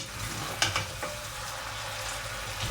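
Creamy pesto pasta being stirred in a hot pan, with a steady soft sizzle and a few scraping clicks of the utensil near the start.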